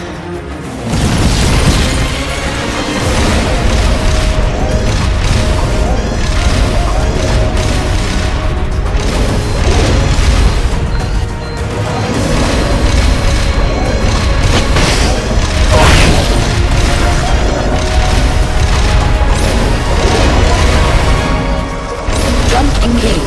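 Rocket launcher in Metal Gear Solid Peace Walker firing and exploding, heavy booms and crashing blasts repeating over a dense, loud mechanical din, with a voice speaking now and then.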